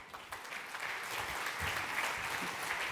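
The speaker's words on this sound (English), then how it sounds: "Merci de l'applaudir." Audience at a corporate plenary session applauding, a steady wash of clapping from many hands that swells and holds throughout.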